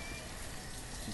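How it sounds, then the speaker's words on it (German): Steady rain in the village-building game Banished, a dense, even hiss of falling drops heard alone at low volume with no breaks across the short stretch. "Und jetzt regnet es wieder."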